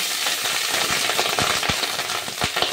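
Cooked rice for fried rice sizzles and crackles steadily in a hot kadai, a dense close frying hiss with occasional sharper pops and stirring knocks throughout.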